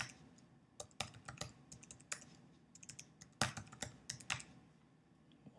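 A new password is typed on a computer keyboard in quick uneven bursts of crisp, close key clicks, with short pauses between groups of keystrokes in a quiet room.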